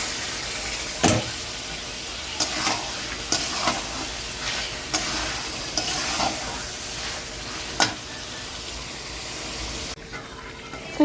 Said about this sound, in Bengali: এবারে আমি মাংসগুলো তুলে দেব।